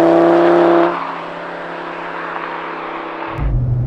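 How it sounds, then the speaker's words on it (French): A five-cylinder Audi RS3 sports car engine drones loud and close, with a steady revving tone that eases slightly before a deep low-end rumble kicks in near the end. "Et la sonorité, c'est vrai que c'est bien spécifique, le 5 cylindres."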